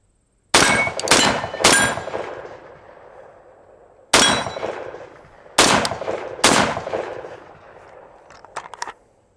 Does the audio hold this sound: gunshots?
yes